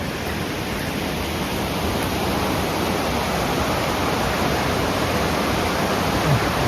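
A river rushes steadily in a dense, unbroken wash, loud and close, continuing without pause and with no voices.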